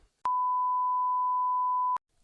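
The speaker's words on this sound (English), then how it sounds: "Please beep that part out." A single steady electronic censor beep, a pure tone lasting under two seconds, starts and stops abruptly in near silence.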